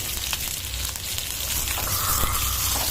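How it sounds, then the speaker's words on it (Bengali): Pointed gourd (potol) frying in oil in a pan over a raised gas flame gives off a steady, close sizzling hiss that holds level throughout. "পটলটাকে আমি লাল করে ভেজে তুলে নেবো"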